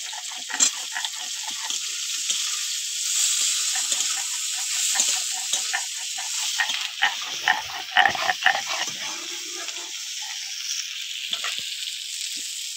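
Potatoes tossed into hot oil with frying spices and green chilli for an egg curry sizzle with a continuous bright hiss, broken by light stirring clatters and scrapes throughout.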